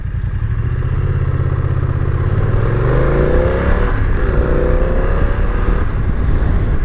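BMW F900 XR motorcycle engine under way in dynamic riding mode with road suspension, a loud steady drone whose pitch sweeps up and down through gear changes, no talking.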